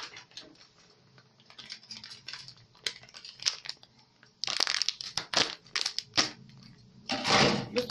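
A bag of powdered chocolate being torn open in a home kitchen, heard as a string of sharp crinkling rips and crackles of packaging at close range, growing louder and denser toward the end.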